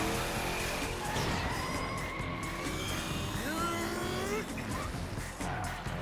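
Race cars fitted with Nitrox boosters scream along in a dense, continuous roar of several engines, with whining pitch sweeps and tire noise layered throughout.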